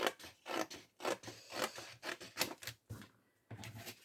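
Scissors snipping through a photo for an art collage album, a quick run of close, crisp cuts in an uneven rhythm, about eight snips with a brief pause near the end.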